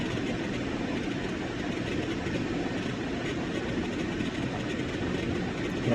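A metro train runs steadily with a continuous loud rumble and broad rolling noise, its wheels and motors droning evenly throughout with no voices.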